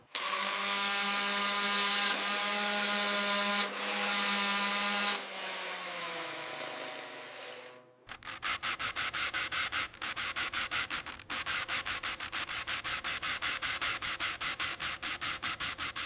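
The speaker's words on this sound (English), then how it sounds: "The dual-action sander makes quick work of the old green paint, revealing the steel underneath." A dual-action sander strips old green paint down to bare steel on a 1902 Mercedes 40HP Simplex. It first whines in a steady tone, then scrubs in a fast, rhythmic grinding pulse, loud and close with no talk.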